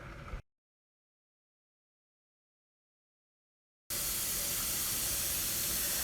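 A pressure canner canning chickpeas and navy beans: a steady, loud broadband hiss of venting steam fills the end of the clip after a long stretch of silence, with a short burst at the very start.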